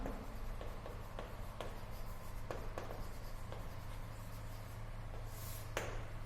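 Chalk or marker writing on a board during a physics lecture: a steady scratchy scrawl of strokes with short taps and pauses, heard close over a constant low hum, with no voices.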